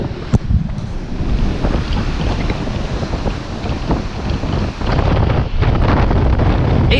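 Strong wind buffets the microphone on an exposed beach during stormy weather, with a steady roar of the incoming tide and surf underneath, loud and continuous throughout.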